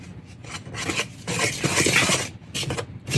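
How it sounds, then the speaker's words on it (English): Whisk scraping and stirring through blue corn bread batter in a bowl, a steady rasping rub with rhythmic strokes, close and moderately loud with no talking. "I do have a whisk I want to use on this."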